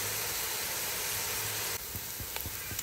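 Onions frying in a pan toward light golden, a steady dense sizzle that drops quieter partway through, followed by a few faint clicks.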